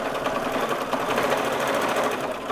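A sewing machine runs continuously during free motion stitching of foreground shrubs and grasses on fabric, giving a steady, close, fast mechanical whir and needle chatter at an even loudness throughout, with no voices.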